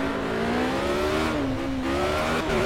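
A car accelerates hard through second and third gear early on a cold morning, the engine note climbing steadily, dipping at a shift around the middle, then rising again, loud and close with no talk.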